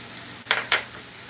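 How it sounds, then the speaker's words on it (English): Vegetables for a turkey pot pie sautéing in a pan: a soft, steady sizzle with two short bursts of stirring scrapes close by, then settling back to a quiet hiss. "Now we're just letting these saute a minute before we start our gravy."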